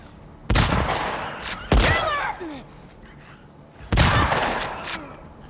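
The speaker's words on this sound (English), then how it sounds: "I've actually taken quite a few gunshots." Gunshots in The Last of Us ring out in three loud, sharp bursts spaced a second or two apart, each trailing off with a ringing decay under game ambience.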